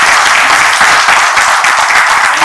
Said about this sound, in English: A big round of applause for Sriram sir and Dr.